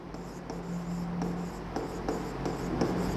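A teacher writes on a board in a classroom, the marker or chalk scratching and tapping steadily in short repeated strokes against a constant background hum, with no voices.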